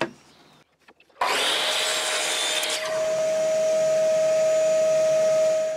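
A piece of wood being cut at a 22.5-degree angle with a power saw, a sudden loud whining cut after a few quiet taps, then a steady high drone as the blade spins on.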